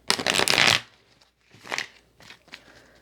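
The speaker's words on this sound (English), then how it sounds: "One last shuffle." A deck of cards is riffled in a quick crisp burst, followed by a few softer taps and shuffles, close and fairly quiet.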